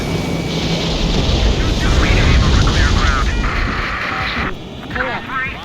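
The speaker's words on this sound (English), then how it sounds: "Missile launched." Missile launch in the Ace Combat 7 jet combat video game, a loud roaring whoosh amid continuous engine and battle noise, with brief warning tones and some game dialogue around it.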